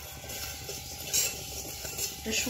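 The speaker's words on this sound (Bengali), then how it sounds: "এখন ভেজে নেব পরিমাণ মতন ধনে, দিয়ে দেবো জিরে, একটা তেজপাতা।" Coriander seeds, cumin and a bay leaf dry-roasting in a hot wok on a gas stove, giving faint close stirring and scraping with soft rattles of spices against metal, brief louder scrapes now and then, no talk.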